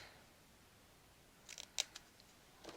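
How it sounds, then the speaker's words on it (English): Scissors snip through a paper pocket in a couple of quick, close cuts, faint at first and then a sharper crisp snip in an otherwise quiet room. "I'm going to cut that out."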